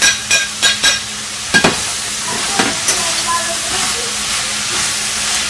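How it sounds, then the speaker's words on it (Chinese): Lamb stir-fried with softened onion and carrot in a pan for a lamb pilaf, a loud steady sizzle and hiss with several sharp spatula scrapes and knocks near the start. "再翻炒一下"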